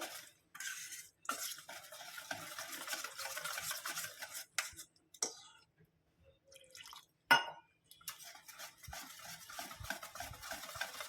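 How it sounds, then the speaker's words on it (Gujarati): Semolina dhokla batter mixed with yogurt is stirred in a bowl, giving repeated wet scraping and sloshing strokes with brief pauses and one sharp knock against the rim, close and clear with no talking. "આપણે દહીં નાખી દીધું એટલે હલાવશું આપણે"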